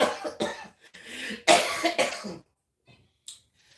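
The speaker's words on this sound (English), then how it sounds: "I was going to say something, but I coughed." Several loud, harsh coughs burst out close up in a tight cluster, followed by a short quiet stretch with a couple of faint rustles.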